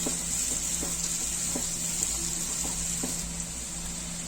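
Ingredients for matar paneer frying in a pan, giving a steady, loud sizzle with faint stirring taps spaced through it and no voices.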